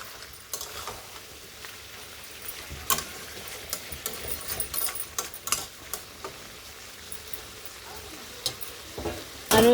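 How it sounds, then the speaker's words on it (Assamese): Duck meat with ground cumin fries in a pan over a low flame, giving a faint, steady sizzle with scattered clicks and clinks of a utensil, and a brief soft voice. "মই ল' ফ্লেমত দি মিনিমাম মাংসখিনি 20ৰ পৰা 25 মিনিট টাইম ভাজি ল'ম"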